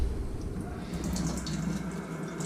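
Plain water poured onto a sharpening stone used to hone a kamisori razor makes a steady, close splashing rush with no break, and no one speaks.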